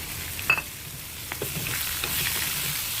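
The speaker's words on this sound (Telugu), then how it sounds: "కాకరకాయ ముక్కలు కొంచెం బాగానే ఫ్రై అయ్యాయి" Pieces of bitter gourd frying and being stirred in a pan, a steady close hiss and crackle with a few sharper scraping knocks from the stirring.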